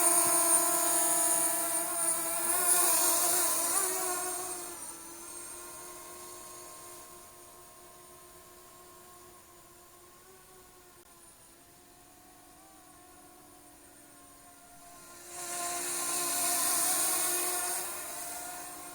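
A JJRC X6 Aircus quadcopter drone, a Phantom 4 clone, flies outdoors with a steady high-pitched rotor whine. The whine swells louder as it passes near, fades in the middle, then rises again, with no talk.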